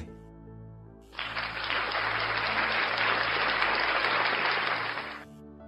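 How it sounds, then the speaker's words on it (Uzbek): A classroom full of students breaks into applause, a dense burst of clapping that rises quickly, holds steady for about four seconds, then fades out. "Sinfning ichi olqish sadolar bilan yangrab ketdi."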